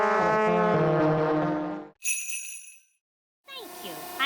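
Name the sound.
elves tooting their horns, cartoon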